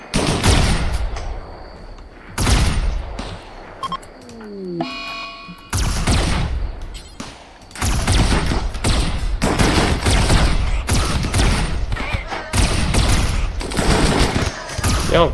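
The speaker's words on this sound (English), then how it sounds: "Congratulations, you are shooting" Rapid bursts of gunfire from colonists shooting in the video game Rimworld, loud and close, coming in repeated volleys with short gaps and a brief electronic tone between bursts.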